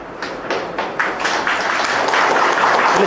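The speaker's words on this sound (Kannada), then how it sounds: "ಚಪ್ಪಾಳೆ ಬೇಡ ಚಪ್ಪಾಳೆ ಬೇಡ" Applause from a crowd at a political press meet after an election win, a dense patter of clapping that builds in bursts and stays steady and fairly loud throughout.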